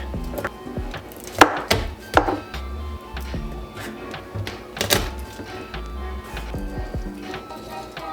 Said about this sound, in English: I'm gonna mince up about 5 cloves of garlic